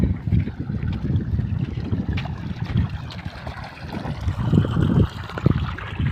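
Irrigation water flows into a wheat field during its third watering, making a steady low rushing and gurgling that runs continuously at moderate loudness, with no voices.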